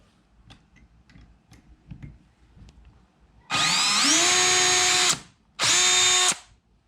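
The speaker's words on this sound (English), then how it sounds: "We're gonna drill into my brand new kayak." A power drill whines loudly through two bursts, a longer one then a short one, rising in pitch as it spins up while drilling into a plastic kayak, after quiet background ticks.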